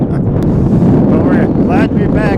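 Wind buffets the microphone at a cold, windy outdoor high school rugby match, a loud continuous low rumble with bursts of gusting, and faint voices partly buried beneath it.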